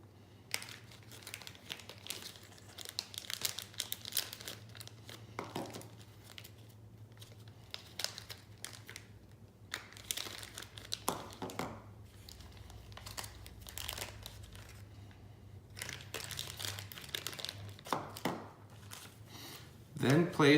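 Plastic Ziploc bags being handled and sealed around sample vials, giving intermittent crinkling and rustling with soft clicks and taps, close and fairly quiet, with no talking.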